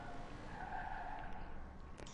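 Car tires skid and squeal through a handbrake 360 spin in Watch Dogs 2, a sustained, fairly loud screech over engine roar lasting about two seconds with no talk.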